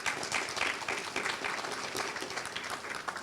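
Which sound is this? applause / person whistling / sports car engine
applause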